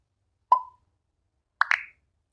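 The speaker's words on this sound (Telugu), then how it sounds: "అప్పుడు బబుల్ సౌండ్ యూజ్ చేస్తాం మనం." Two short bubble pops from the InShot video editor's sound effect library, a single pop followed after a gap by a quicker double pop, clean and alone with no talk.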